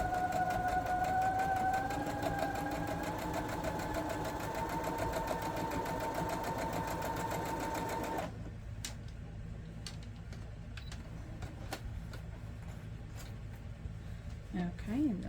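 A sewing machine stitches quilt pieces with a quarter-inch seam: a steady motor whine runs for about eight seconds, then gives way to softer, irregular mechanical ticking.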